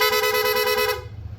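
A PIAA horn fitted to a Honda ADV160 scooter sounds one loud, steady, bright honk lasting about a second, then cuts off into low background rumble.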